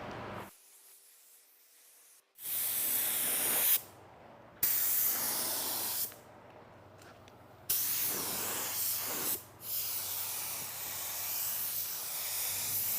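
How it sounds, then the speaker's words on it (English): Spray gun laying a first coat of fine metallic base paint onto a replacement car bumper, heard as several steady hissing passes of a few seconds each, separated by brief pauses, loud and close with no talking. "So now we're going to go ahead and lay our first coat of base."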